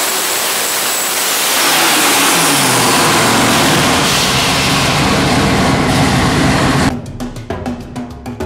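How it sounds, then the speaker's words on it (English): A twin-turbo 572 Chrysler Hemi, an all-aluminum engine with a half billet intake and 16 injectors, roars up loudly and holds a steady, powerful note, then cuts off sharply into a few fading pulses. "This is the twin turbo 572 Chrysler Hemi."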